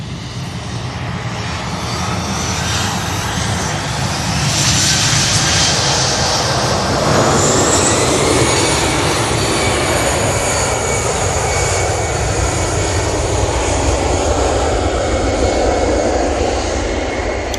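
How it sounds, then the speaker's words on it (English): An EasyJet airliner departs Manchester Airport, its jet engines a loud, continuous roar that swells partway through and stays strong to the end, with no voices. "I've got the EasyJet going out, so I'm going to get this."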